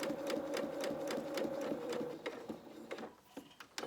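A sewing machine runs steadily, stitching a pocket on children's dungarees, with a fast even rhythmic chatter that slows and breaks into short bursts near the end.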